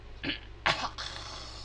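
A person clears their throat in two or three short, raspy bursts, close and fairly loud, against a quiet background with no talking.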